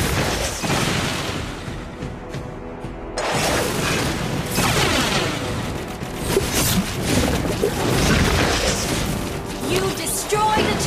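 Mobile Legends turret destruction with a loud booming blast and crashing debris, followed by dense, busy in-game battle effects under announcer-style game audio throughout.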